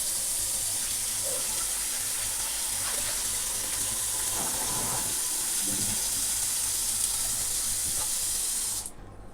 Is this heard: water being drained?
yes